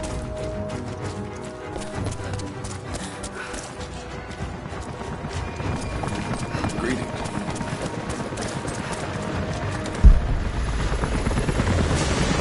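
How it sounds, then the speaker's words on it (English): Helicopters close in during a Rise of the Tomb Raider game scene, a steady loud rotor drone building slightly over the stretch with a brief thump near the end, while game voices talk over it. "Jacob, helicopters are headed your way."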